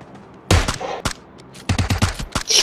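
Bursts of video game gunfire crack out in quick clusters, loud and close, with short rapid volleys separated by brief pauses.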